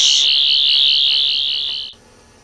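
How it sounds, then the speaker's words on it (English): Lego Doctor Who sonic screwdriver working as a timey-wimey detector: a steady, high electronic whine held for about two seconds, then cutting off abruptly. "my sonic screwdriver doubles up as a timey-wimey detector"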